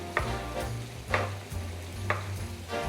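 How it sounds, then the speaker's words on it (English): Eggplant slices frying in oil in a pan, a steady close sizzle broken by a few sharp stirring or scraping bursts at regular intervals, with no voices. "We're just going to fry some eggplants and then toss it with some sesame oil and some miso paste."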